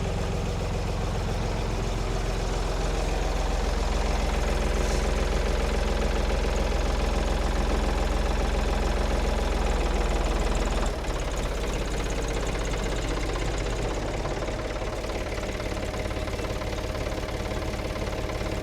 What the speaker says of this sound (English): now we're going to take this tractor up